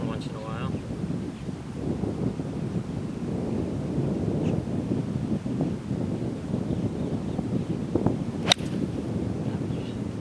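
Wind gusting across a golf driving range, a low continuous rumble buffeting the microphone, with a sharp crack near the end.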